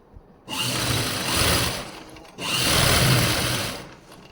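Two close, loud bursts of a sewing machine stitching over the elastic waistband of Afghani trousers, each run lasting under two seconds and separated by a brief pause.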